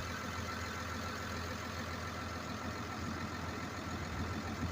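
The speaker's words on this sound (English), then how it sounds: "I use a 200 horse case tractor." Steady low rumble of a 200-horsepower Case tractor engine idling, a constant diesel drone at moderate distance with no talking.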